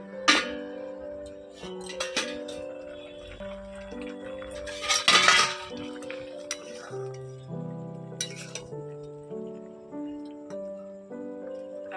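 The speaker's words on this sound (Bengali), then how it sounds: "এবারে ঢাকা তুলে একটু দেখে নেই কি প্রস্তুত" A lid lifts off a pot of boiling raw mangoes with a few metallic clinks and clatters of cookware, spaced over a quiet kitchen background with faint bubbling and bursts of hiss.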